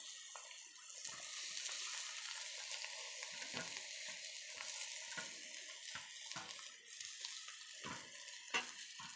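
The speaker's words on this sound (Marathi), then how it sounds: "भाजी टाकल्याच्यानंतर हलक्या हाताने असं परतून घ्यायचं आहे" Vegetables sautéing in hot oil with fried spices, including Suhana masala, a steady close sizzle with frequent scraping stir strokes throughout and no talking.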